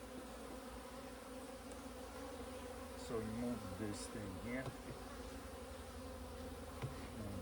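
Honey bees buzz around a queen-rearing setup, giving a steady, quiet hum with brief louder passes close by, while a person talks briefly over it.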